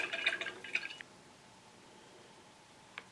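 Water drips while a paint brush is rinsed: a quick cluster of close, bright drips and small splashes at first, then near silence before one last isolated drip.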